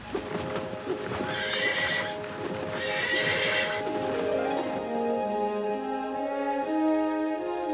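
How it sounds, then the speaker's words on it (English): A winged horse gallops with rapid clip-clop hoofbeats and loud, wild neighs and whinnies, heard up close over a swelling orchestral score with no speech. "a horse with wings came galloping, neighing wildly, just as in the dream"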